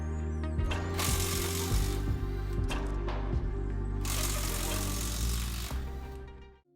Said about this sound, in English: Remove the 4 bolts holding the steering box in place using an 18mm socket.